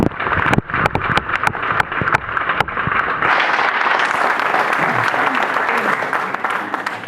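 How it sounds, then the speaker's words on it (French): A crowd in a town hall claps at a mayor's New Year address, at first in scattered sharp claps that quickly swell into steady, sustained applause filling the room. "je crois qu'on peut les applaudir"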